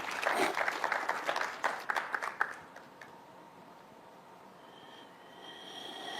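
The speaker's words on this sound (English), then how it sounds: "We appreciate that you applaud yourselves." An audience applauds loudly for about the first two and a half seconds, a dense wash of claps that quickly fades to a quiet room tone.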